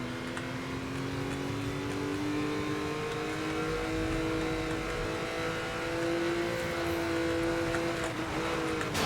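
A car races at high speed in Need for Speed: Most Wanted (2012), its engine a steady, loud drone with rising and shifting pitch as it accelerates, continuous throughout with no voices.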